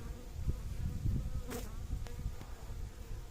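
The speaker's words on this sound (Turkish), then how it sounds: "Körük yapmadan arıları kontrol edebilecek miyiz bunlarda da?" Honey bees in an open hive, being checked by a beekeeper, fill the air with a dense, steady, close buzz that continues throughout.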